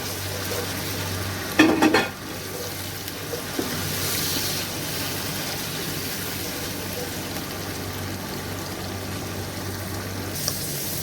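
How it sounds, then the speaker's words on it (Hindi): Peas fry in masala in a pan with a steady, soft sizzle throughout, and one brief louder clatter of stirring near the start, close up. "अभी मैं इसमें मटर डालूंगा। मटर को थोड़ा सा भूनूंगा"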